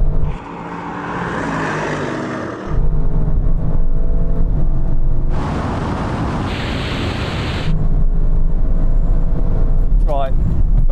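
Audi RS7 and RS6 accelerating hard side by side in a drag race, a loud sustained engine roar that swells and shifts in steps as the cars pull through gears, with brief voices over it.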